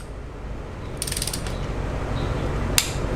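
Ratchet torquing the head gasket bolts on a Jeep Cherokee, Compass or Renegade 2.4 engine, heard as two short bursts of rapid metallic clicking over a low steady background hum, with no talk.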